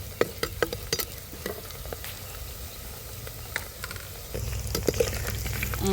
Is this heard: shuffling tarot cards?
no